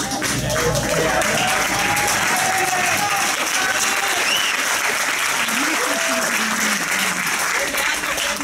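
Members of the Italian parliament applaud loudly and continuously in a dense, sustained burst of clapping, with voices speaking over it throughout.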